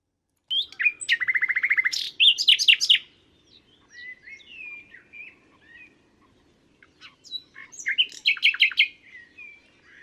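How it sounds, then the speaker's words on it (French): A common nightingale sings at Étang de la Chaussée in the Meuse, two clear bursts of rapid trilling and whistled phrases separated by a quieter stretch, close and alone against a silent background. "Donc voilà le rossignol philomèle."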